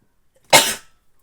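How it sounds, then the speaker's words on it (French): A single sharp sneeze bursts out once, close and loud, then fades quickly into silence. "Pardon, je vais éternuer"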